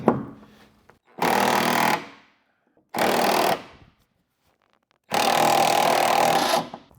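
An impact wrench works on a rusted hitch on a Cushman Trackster, firing three loud, close bursts of hammering, each lasting about a second or more, with short silent gaps between them.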